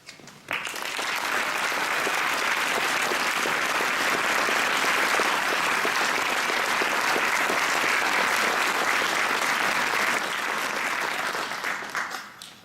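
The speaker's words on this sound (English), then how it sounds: "I would love to give you a round of applause." Retired firefighters and their spouses receive a sustained round of applause from a large crowd at a pageant coronation, steady dense clapping lasting about eleven seconds before tapering off.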